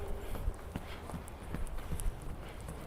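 A horse's hooves clip-clopping at an easy walking pace during a jumping lesson, a steady run of soft thuds on a dusty surface with faint background noise.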